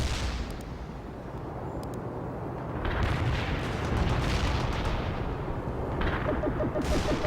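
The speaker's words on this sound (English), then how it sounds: "Command reports the missile has been launched" A missile launch in World in Conflict, a big roaring, rumbling blast that swells and grows louder midway, with crackling bursts and distant booms in the battle ambience.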